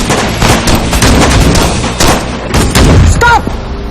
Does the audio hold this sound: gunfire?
yes